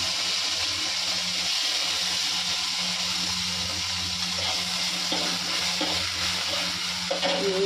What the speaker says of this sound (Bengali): কড়াই বসিয়ে দিয়েছি তেল দিয়ে, কারণ এই শুটকি মাছটা ভাজবো